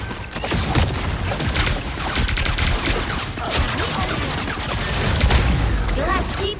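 Heavy-weapons fire in the video game Marvel Rivals: a dense, loud, continuous barrage of rapid shots and booms mixed with game effects and a voice speaking over the fight.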